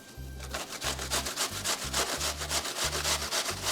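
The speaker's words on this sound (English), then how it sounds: "move your apple down the grater" A whole apple is rubbed down a kitchen grater in steady, even strokes, a quiet rasping scrape repeated about seven times with short pauses between passes, with no talking.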